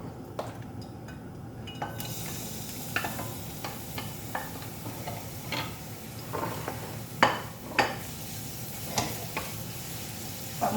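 Food sizzles in a frying pan with a steady hiss, broken by scraping stirs and clinks of a utensil against the pan, close up and with no talking.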